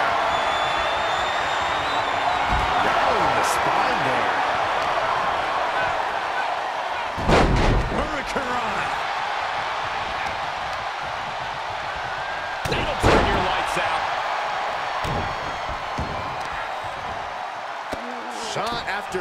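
Heavy slams in a WWE wrestling match as a wrestler drives an opponent's face down, sharp impacts landing around the 7- and 13-second marks over a constant arena crowd roar, with further thuds scattered through.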